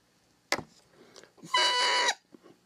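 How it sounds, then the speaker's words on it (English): A rooster on a clipped game call gives a sharp click, then a short, loud, raspy crow that holds for about half a second, close and alone. "till we get a crow"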